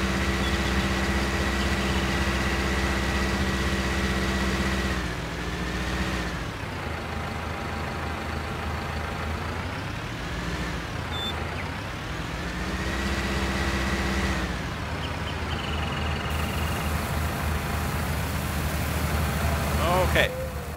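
A tractor engine in a farming simulator video game drives with a cultivator, a loud steady droning hum that shifts pitch as the engine revs and settles, continuous throughout with someone talking over it.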